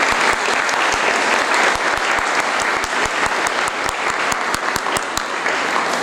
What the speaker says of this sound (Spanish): Por favor, reciban con un cálido aplauso a Evangelina Cárdenas,